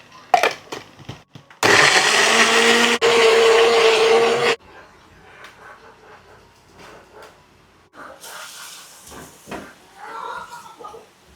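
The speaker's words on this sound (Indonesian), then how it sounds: "Di sini kita haluskan dulu bawang putih, bawang merah sama kunyit." An electric blender grinds garlic, shallots and turmeric with water in one loud, roaring burst of about three seconds, with quieter kitchen clatter before and after.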